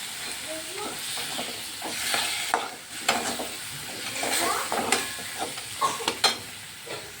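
Ground masala water poured into a vegetable curry frying in a pan, a loud close sizzle and hiss with scraping stirring clicks throughout.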